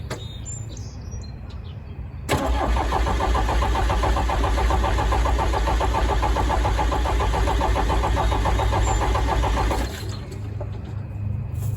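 An old bulldozer's diesel engine catches after a couple of seconds and runs at a steady, loud rumble, with the throttle set and adjusted, then drops back near the end. Birds chirp faintly in the background before and after.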